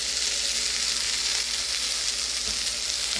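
Khichuri frying in a pan, a steady close sizzle with faint stirring, continuous throughout with no talk.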